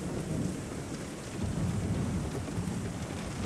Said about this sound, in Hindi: की कड़क के साथ अचानक से मूसलाधार बारिश होने लगी।